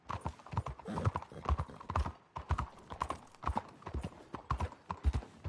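Horse hooves clip-clop at a steady walking rhythm in Red Dead Redemption 2, close and clear, with a short pause partway through before the hoofbeats resume.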